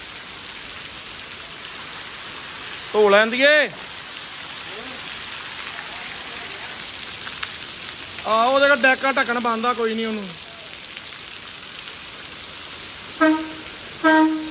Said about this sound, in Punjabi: ਬਹੁਤ ਜ਼ਿਆਦਾ ਮੀਂਹ ਆ ਵੀਰ ਜੀ ਬਹੁਤ ਪੂਰਾ ਤਸੱਲੀ ਵਾਲਾ ਮੀਂਹ